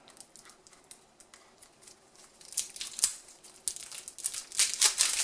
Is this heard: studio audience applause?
no